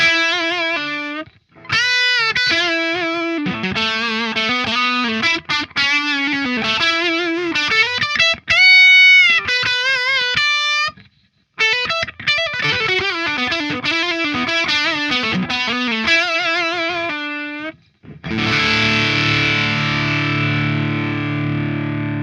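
Electric guitar through a PRS effect pedal with the gain backed off slightly for a lead tone plays fast, singing single-note runs and bends, loud and close, then ends on a thick, distorted strummed chord that rings out.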